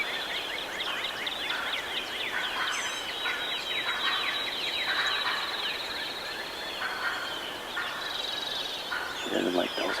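A hen turkey clucks and putts in a steady run of sharp, repeated calls, fairly close and loud, with more calls overlapping through the stretch and a brief lower rustle near the end.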